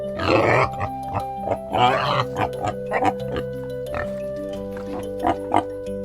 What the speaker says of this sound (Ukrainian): А це кабан. Він рохкає.